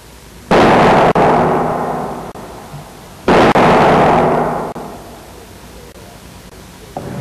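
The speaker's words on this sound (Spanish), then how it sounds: "Rompemos el ala y luego procedemos a la destrucción total del avión" Two loud, sudden cracking bursts as a Boeing 747 wing breaks in a stress test, each followed by a long, fading roar of breaking structure, with a few sharper snaps in between.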